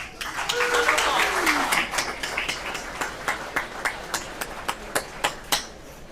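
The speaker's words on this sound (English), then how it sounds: "Please join me in giving them a well-rounded applause." Audience at a kick-off barbecue gathering claps for sponsors, starting as dense applause that thins to a few distinct, fairly close handclaps, with some voices briefly audible early on.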